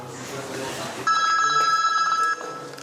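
A telephone rings in one electronic trilling burst lasting over a second, loud and close, with speech-like background murmur before and after.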